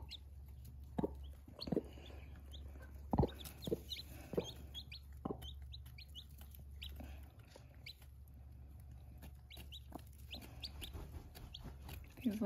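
Hens clucking softly as they teach their chicks to eat in an urban backyard flock, with scattered short clucks and faint peeping at close range over a low steady hum.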